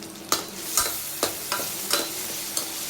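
Tomatoes and garlic fry in oil for a fish curry, a steady sizzle broken by about seven sharp spoon scrapes against the pan at an uneven pace, close and with no talk.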